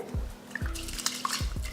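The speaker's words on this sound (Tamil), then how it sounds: "அதில் 4 டம்ளர் தண்ணி ஊற்றிருக்கேன்." Water is poured in short splashy bursts into a pot of soaked rice, with a few hollow glugs and small clinks of metal, close by.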